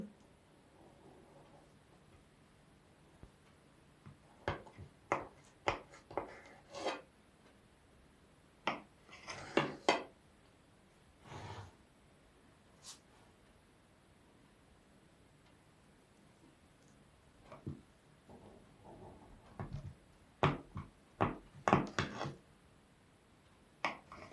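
A knife cuts through a chilled homemade sour cream cake (smetannyk) after a night in the fridge, giving soft scraping and rubbing strokes in a few bursts with quiet pauses between them.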